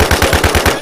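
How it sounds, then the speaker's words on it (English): Rapid automatic gunfire in a survival video game, about eight sharp shots in quick even succession, loud and close with no talk over it. "They're shooting at me out west."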